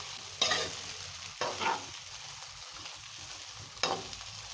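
Food frying in oil in a pan, a steady low sizzle with three louder bursts of crackle as ingredients are stirred or added.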